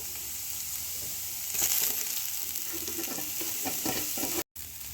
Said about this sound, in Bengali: আলু কুচিগুলোকে তেলের মধ্যে দিয়ে দিয়েছি, এবার এগুলোকে ভালো করে ভেজে নিতে হবে।